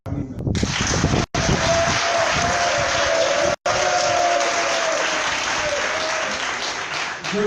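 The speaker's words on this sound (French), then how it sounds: "Jeunesse de Yopougon, je voudrais encore une fois de plus vous demander de vous acclamer." A large crowd of Yopougon youth applauds at a PDCI RDA campaign rally, dense sustained clapping and cheering close and loud for several seconds, briefly cut twice, with a voice over a loudspeaker faintly in the mix.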